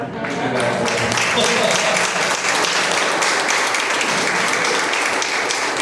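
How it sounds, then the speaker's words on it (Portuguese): A church audience at a Confirmation course breaks into sustained applause, a dense, loud wash of many clapping hands that carries steadily through the clip. "eu queria uma salva de palmas para quem fez esse cronograma"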